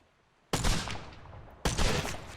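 Two loud, close double-barrel shotgun blasts in the pirate game Blazing Sails, about a second apart, each a sharp boom with a decaying rumbling tail.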